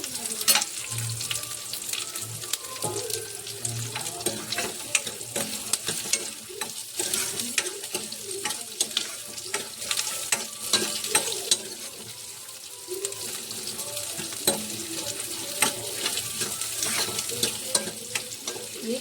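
A large onion fries and is stirred in a pan for potato masala curry, giving a steady close sizzle with repeated scraping and clinking of the spatula throughout.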